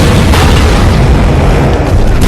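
A loud, sustained roaring blast fills the space, deep and rumbling throughout, like a torpedo from a Japanese submarine exploding against the bow of an American aircraft carrier.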